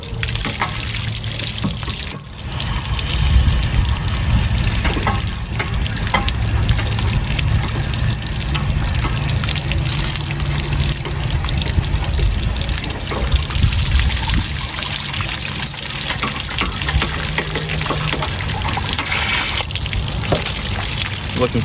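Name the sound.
water draining out of an RV water tank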